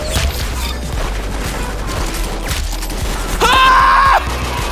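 Gold AK rifle gunfire in Roblox Arsenal, a quick string of close, punchy shots with scattered explosive thuds, ending in a loud tonal game sound effect.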